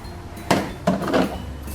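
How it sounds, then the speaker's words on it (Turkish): Small toy pots and pans being put into a child's toy oven, making two short, close clattering knocks and clinks with brief rattling between, against quiet room tone. "Şu yukarıdaki küçük tencereleri falan da bence fırın içine."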